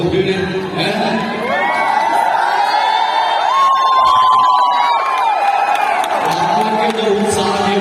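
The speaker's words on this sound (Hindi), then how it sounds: "यार, यहाँ तो बहुत भीड़ है?" A large crowd roars and cheers continuously inside an indoor stadium in Raipur, a loud, dense wash of voices with whistles and shouts, sustained throughout.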